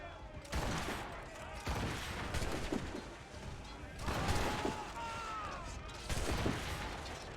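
Repeated bursts of gunshots in the video game Assassin's Creed Rogue, loud muzzle blasts and crashes recurring every second or two over a busy, noisy battle, with someone talking over the action.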